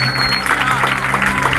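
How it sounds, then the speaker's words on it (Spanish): Congregation applause at a church service, a busy wash of clapping with a low steady hum underneath, moderately loud and unbroken for a second or so. "Alguien debería aplaudir."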